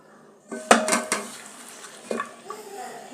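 Chopped greens tipped into a pressure cooker while making Mangalore-style mosappu sambar, giving a few sharp metallic clanks and clatters of pot and utensil, close by, followed by quieter shuffling.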